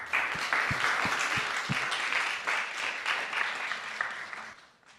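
Audience applause at a blockchain summit, a loud, full burst of crowd clapping with a few distinct sharp claps early on, sustained then tapering off toward the end.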